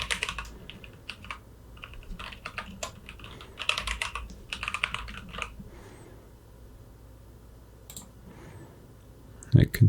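Someone types a password on a computer keyboard, with quick bursts of crisp key clicks separated by short pauses and a couple of louder final taps, close and fairly quiet.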